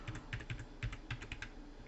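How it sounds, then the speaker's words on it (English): Keys clatter on a computer keyboard in a quick, irregular burst of soft clicks, close and fairly quiet, with no voices. "We're going to save time and use the keyboard like they would ask us to."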